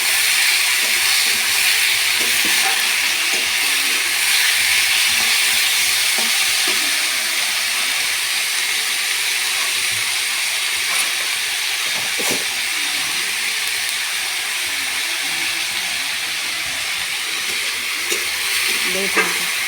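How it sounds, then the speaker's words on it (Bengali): Potatoes sizzle and fry in a pan with leftover rice, giving a steady broadband hiss that runs throughout, with occasional faint stirring clicks and no talking. "আলুটাও আমি ভালো করে ভাজা ভাজা করে নেব।"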